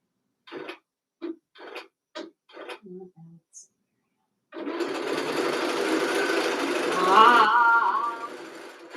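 A Juki sewing machine starts after a few brief spoken words and runs continuously and fairly loudly for over four seconds, its whirring pitch rising as it speeds up before easing off.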